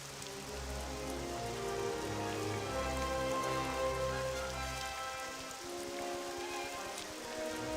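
Steady rain in Morrowind's Starwind mod, falling as a continuous dense hiss with low droning ambient game music underneath, loud and unbroken throughout.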